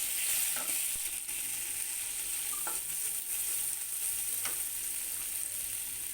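Onions browned in a pan with a tablespoon of garlic paste sizzle and fry steadily, a dense continuous hiss with a few faint clicks and scrapes, close and fairly loud, no talking.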